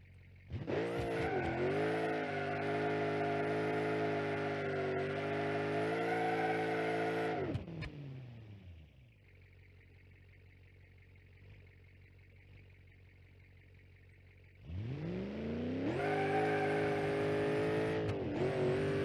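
A Hemi-engined car running on nitrous in BeamNG.Drive revs hard toward 7,000 rpm in a loud, sustained roar, drops to a quieter idle hum for several seconds, then surges back into another screaming rev.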